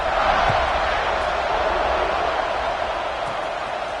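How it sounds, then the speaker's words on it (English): Dense, steady crowd roar fills a football stadium in Georgia just after a touchdown, a continuous broadband buzz of thousands of voices with no clear individual calls standing out. "this crowd is buzzing after that last score"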